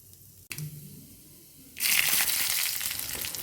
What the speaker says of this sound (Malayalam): എന്നിട്ട് അമ്മ കടുക് പൊട്ടിച്ചു